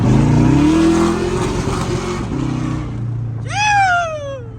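A truck's engine drones steadily while driving to a tire shop; the rumble fades near the end and a high, wavering, meow-like squeal rises and falls briefly.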